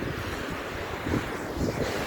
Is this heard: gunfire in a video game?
no